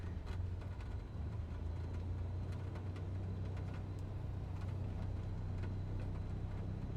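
Cessna piston engine running up to about 1,000 RPM in Microsoft Flight Simulator, a steady low drone with a faint rhythmic ticking, even and unbroken throughout.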